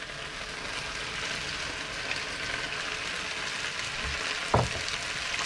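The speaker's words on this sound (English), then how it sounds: "Just frying away again. Let's almost finish browning that off now" Beef browning in a frying pan for a stew gives a quiet, constant sizzle, with one sharp scrape or knock of the utensil toward the end.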